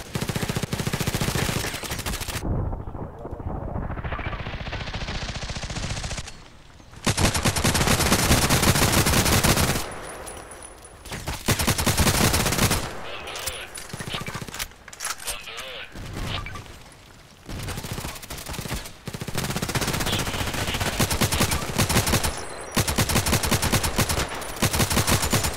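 Mortar blasts and gunfire in the online shooter Contract Wars, long bursts of dense automatic fire and booming impacts that come and go in loud waves, with a voice talking over the game.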